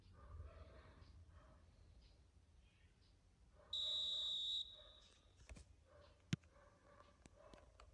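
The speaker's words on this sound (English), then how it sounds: "There's the whistle." A referee's whistle in the football video game eFootball gives one sharp, steady blast of just under a second, clear over quiet crowd ambience, followed by a few soft clicks.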